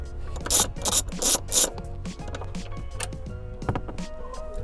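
A ratchet fitted with a T50 socket removes the seat bolts in a car. It gives rapid, loud, close clicking in several bursts, followed by softer scattered mechanical clicks and handling noise.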